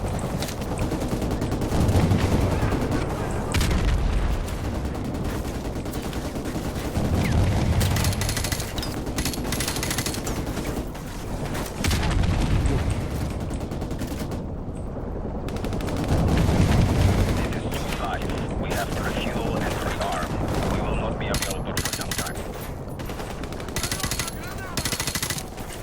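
Call of Duty Modern Warfare Remastered gameplay: M4 rifle fire crackling in steady, dense bursts with rapid automatic volleys and heavy battle noise, continuous and loud throughout.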